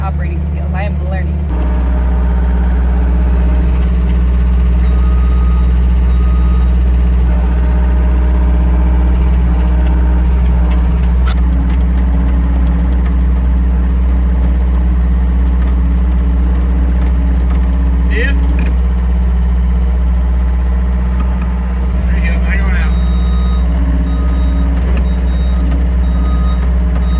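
A skid steer works with a loud, steady low engine drone, while repeated high reversing beeps sound intermittently over it throughout.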